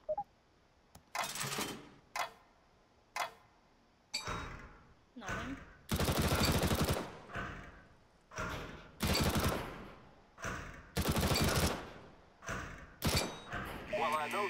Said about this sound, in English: pick up the weapon and shoot 5 bad guys for me